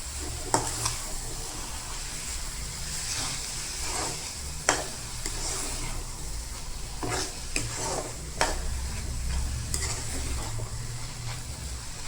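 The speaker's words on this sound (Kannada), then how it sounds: "ಸಿಮ್ಮಲ್ಲಿ ಇಟ್ಕೊಂಡು ಚೆನ್ನಾಗಿ ಮಿಕ್ಸ್ ಮಾಡಿ ಇನ್ನೊಂದು 5 ಮಿನಿಟ್ಸ್ ಸಿಮ್ಮಲ್ಲಿ ಹಂಗೆ ಬಿಡ್ತೀರಿ" Bottle gourd halwa being stirred in a pan over a low flame, a soft continuous sizzle broken by occasional scraping and spoon knocks against the pan, close and quiet with no talking.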